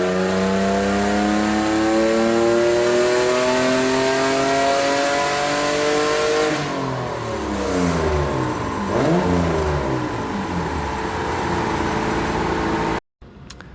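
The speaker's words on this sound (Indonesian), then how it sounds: "Sekarang kita akan main di RPM limit di 7500." A 2500cc car engine revs repeatedly up to its 7500 RPM limit on a tuning run, loud and close, rising and falling in sweeping pulls before cutting off abruptly at the end.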